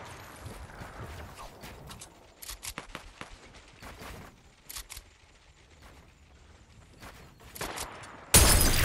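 A sniper rifle shot in Fortnite Battle Royale cracks out loud and sudden at the very end, following several seconds of faint scattered clicks and shuffling movement.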